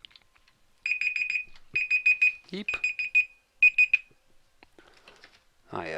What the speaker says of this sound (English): Recording alarm to say I'm running out of time.